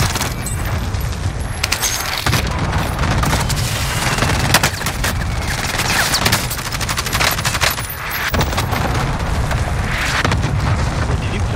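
An artillery strike called in during Call of Duty Warzone, with dense, continuous booming blasts and crackling gunfire that rumble loudly without pause throughout.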